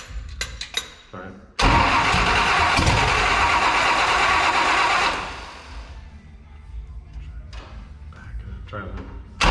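An old Toyota Land Cruiser engine cranks and catches, then roars loudly for several seconds before settling into a lower, steady idle. Short bursts of talk come before and after the start.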